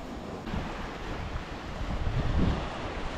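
Wind gusts roar across a lakeside camping spot and buffet the microphone in a continuous, rushing din, with a louder gust toward the end and no voices.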